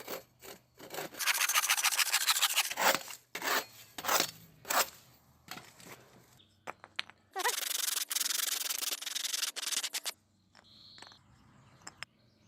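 Hand saw strokes rasp through wood in steady back-and-forth bursts, close and loud, pausing briefly between runs of cutting.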